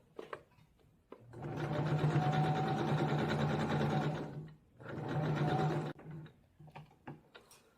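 A sewing machine stitches stretch fabric close to the edge of a sports bra band in two loud, steady bursts with a short pause between, followed by faint handling clicks.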